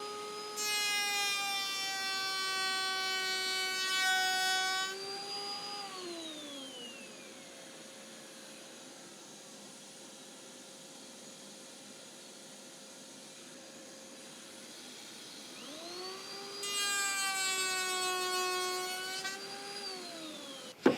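A router on a router table cuts wood with a coping sled. Its motor gives a loud, high whine for several seconds, then winds down in a falling pitch, and spins up again near the end.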